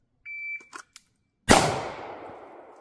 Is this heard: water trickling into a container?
no